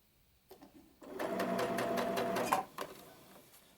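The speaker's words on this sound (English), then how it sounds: "and then I will slowly start sewing this, go back and forth a bit" Sewing machine stitching a sleeve into a garment, a close, brief mechanical run with rapid needle clatter lasting about a second and a half, bracketed by a few soft clicks and handling taps.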